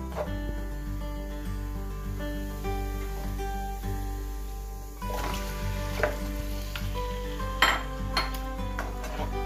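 Chicken pieces going into a hot pan for Kerala-style chicken perattu, giving a steady sizzle under clinks and scrapes of utensils against the pan, with a louder burst of activity later on.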